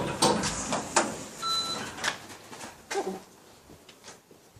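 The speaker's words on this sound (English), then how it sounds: "Door opening." Lift doors of a ThyssenKrupp machine-room-less elevator at Ballymena train station slide with soft mechanical whirs and bumps, near and moderately loud, with a brief electronic tone partway through.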